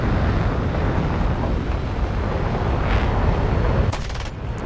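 The aircraft guns of an F-84G fighter fire in War Thunder air battles, a dense continuous roar of gunfire over engine and wind noise, loud and close, ending with a short rapid burst.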